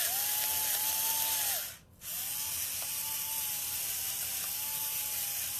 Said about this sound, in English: I love my pepper grinder, by the way.